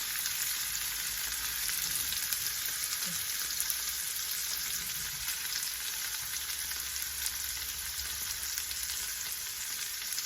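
Tomato puree frying with vegetables in a pan for a plantain and veggie dish, a steady dense sizzle running the full length with faint stirring scrapes, close and unbroken, no voices.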